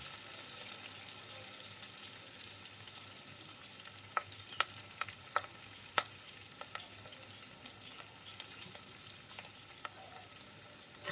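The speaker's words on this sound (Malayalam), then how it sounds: "ഇതെല്ലാം കൂടി ഒന്ന് നന്നായിട്ട് വഴറ്റിയെടുക്കാം" Shallots, green chillies and curry leaves sauté in a pan, a soft steady sizzle broken by sharp crackles and pops, with faint stirring.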